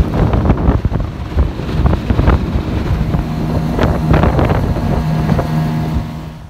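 Strong wind gusts buffet the microphone outdoors on a lake during a crappie fishing trip, a loud continuous low roar with rumbling surges and no speech.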